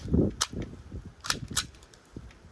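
A Glock 19 pistol fires several sharp, irregularly spaced shots during a mud torture test, with thin reports and no talk.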